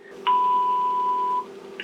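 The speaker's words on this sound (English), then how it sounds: "Right, there's a beep tone." A single clear electronic beep from an old music-on-hold tape machine sounds for about a second over a low steady hum, cutting off abruptly before another tone begins.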